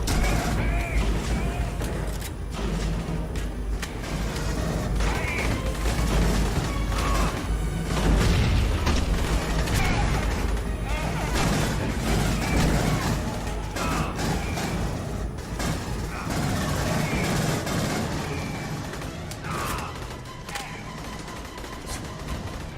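Grenade blasts and gunfire in the Aliens: Colonial Marines game, a dense, continuous barrage of booms, rattling shots and mechanical clanks that stays loud and unbroken throughout.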